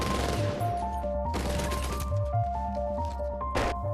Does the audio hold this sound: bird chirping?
no